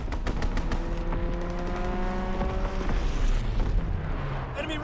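Artillery strike exploding in Call of Duty WW2 on the Flak Tower map, heavy overlapping booms and rolling blasts under continuous rumbling battle noise, with brief gunfire bursts at the start.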